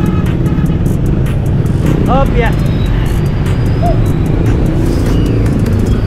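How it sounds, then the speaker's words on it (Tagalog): Heavy road traffic on the way to Tanza, Cavite, heard while cycling: a loud, steady roar of engines and wind, with brief horn-like tones and a rider's short spoken remarks over it. "Grabe talaga traffic dito."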